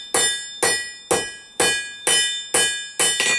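Hammer blows on hot 6mm round steel bar being forged into an S-style hook, seven loud ringing strikes at a steady, quick rhythm with metallic ring between hits.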